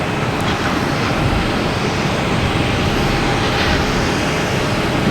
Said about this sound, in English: And Embraer Phenom coming in from Omaha.